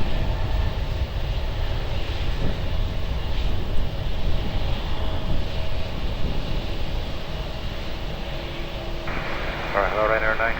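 An airliner on its takeoff run from runway 20 at Lisbon Airport, a broad steady engine roar heard from a distance with wind noise and no break in the sound.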